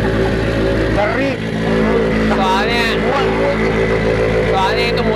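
The engine of a Mitsubishi Xpander AP4 rally car runs steadily at a loud, close idle with a rich humming drone and a slight wavering in tone, while voices talk in the background.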